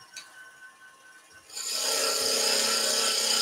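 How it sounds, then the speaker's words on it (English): A skew chisel tip cuts into wood spinning on a lathe while turning potting shed tools, a quiet start giving way to a steady, loud, hissing cutting noise for the last two seconds. "So just the tip of the skew first."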